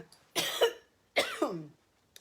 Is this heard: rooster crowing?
no